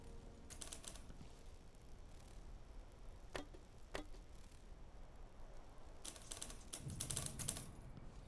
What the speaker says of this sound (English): I feel like I can hear a typewriter going.